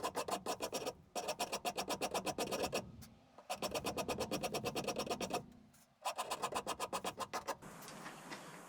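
A plywood guitar body is shaped by hand with a rasp, heard as three runs of fast, evenly rhythmic scraping strokes, close and loud, separated by brief pauses.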